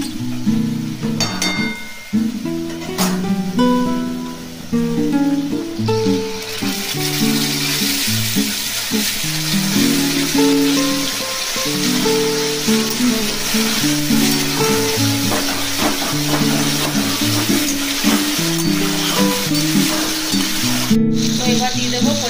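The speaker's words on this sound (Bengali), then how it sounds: "এবার আমি আলুগুলোর ভেতরে মশলা দিয়ে" Fried potatoes sizzle steadily in a pan as spices are added, a continuous loud frying hiss with occasional clinks, while someone talks over it throughout.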